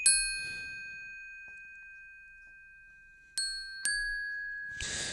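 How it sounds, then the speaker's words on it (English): An isolated tubular bell stem from a Christmas multitrack: three bright, ringing strikes, the first long and slowly decaying, then two more close together late on, each sustaining cleanly over near silence. "so let's have a listen to the first tubular bell."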